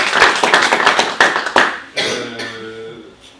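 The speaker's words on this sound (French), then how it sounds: "Si on veut bien vous applaudir." A small audience at a project review on bio-based buildings in Mayenne claps in a close, brisk burst of individual hand claps that thins out and fades within a few seconds, ending with a few scattered claps.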